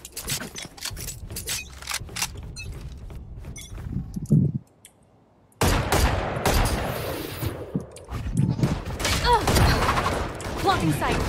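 Rapid bursts of Guardian rifle gunfire in a video game, sharp repeated shots with a brief silent gap, over game sounds and voices.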